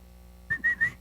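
A person whistling three short, clear notes in quick succession, close and alone against a quiet background.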